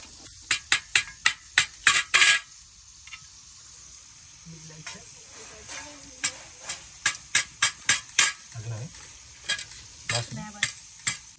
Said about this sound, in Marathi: आता तेलात लसूण टाकलेली आहे